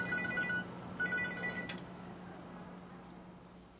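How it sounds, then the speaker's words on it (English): A cell phone sealed in sapphire rings with two short electronic trills, followed by a faint steady hum as the ringing stops. "the cell phone isn't drowned at all. It's actually ringing."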